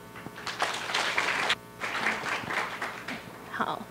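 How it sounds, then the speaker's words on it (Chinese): Audience at a PyCon Taiwan conference talk clapping to welcome the speaker, moderately loud bursts of applause with a brief lull partway through, fading as it ends. "那我们掌声欢迎他。"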